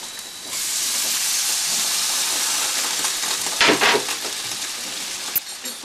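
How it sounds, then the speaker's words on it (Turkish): Sausages fry in a pan with pepper and tomato paste, giving a loud, steady sizzling hiss close up, with a few sharper spatters near the end. "çorba kaşığı biber ve domates salçasını yani hafif kavuruyorum sosislerimi"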